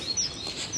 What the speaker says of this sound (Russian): послушайте вот это пение птиц.